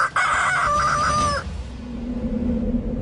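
A rooster crows once, loud and close, a long drawn-out call that fades into quieter outdoor background noise.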